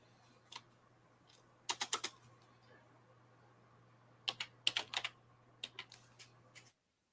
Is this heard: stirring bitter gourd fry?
no